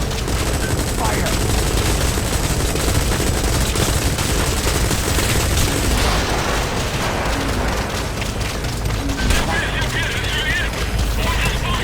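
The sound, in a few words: gunfire in Metal Gear Solid 5 video game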